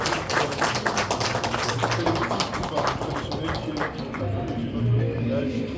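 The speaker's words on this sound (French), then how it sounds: "Merci d'applaudir bien fort" An audience claps at a Democratic Republic of the Congo event at the Venice Biennale, giving brisk, dense applause that fades toward the end, with a voice speaking over it.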